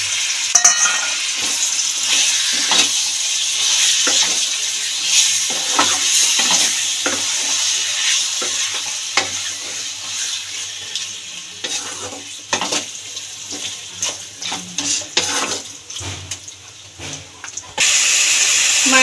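Marinated chicken sizzling in oil in a pan with softened browned onions, stirred repeatedly with scraping spoon strokes over a steady fry hiss.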